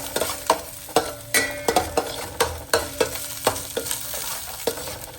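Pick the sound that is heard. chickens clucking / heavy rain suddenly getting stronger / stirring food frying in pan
stirring food frying in pan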